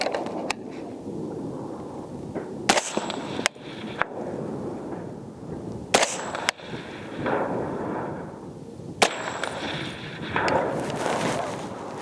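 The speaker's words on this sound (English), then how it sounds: "We will shoot this grouping here and again see how it does." A PSA M110-A1 .308 rifle fires about half a dozen sharp, loud single shots at irregular intervals on an outdoor range with 100-yard targets, each crack ringing out over steady background noise.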